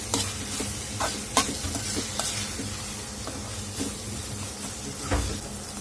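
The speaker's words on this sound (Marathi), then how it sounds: "छान याला परत एकदा परतून घेणार आहोत आपण" Ridge gourd masala sautés in oil over low to medium heat, a soft continuous sizzle broken by several sharp spatula scrapes and taps against the pan, close and without speech.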